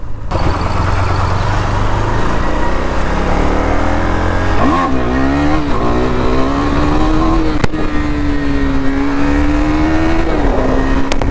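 A KTM Duke 390 motorcycle engine revs during a wheelie, heard as a loud, steady roar that rises in pitch, holds, and climbs again, close and continuous over steady wind noise.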